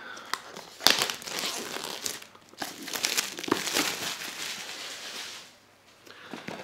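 Outer plastic wrap on a Bose QuietComfort 35 Series II headphone box is cut and peeled away, giving several seconds of close crinkling and crackling with a few sharp snaps, then a brief quiet before more rustling.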